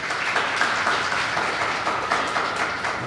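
A church congregation claps for a member named Royal after his prayer, dense and close applause held steady throughout with small swells, no clear speech over it.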